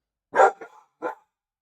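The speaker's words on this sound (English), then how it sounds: "my dog must see something." A pet dog barks twice close by, a sharp bark with a short trailing yelp followed by a second quick bark, loud against silence.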